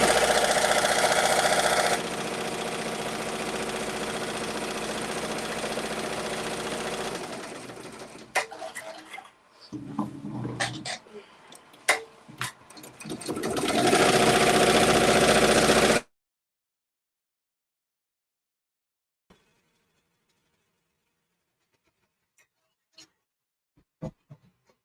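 Bai Mirror multi-needle embroidery machine stitching tack-down and satin, a loud steady mechanical whir with rapid needle rhythm that pauses, restarts briefly, then stops, leaving near silence with a few faint clicks.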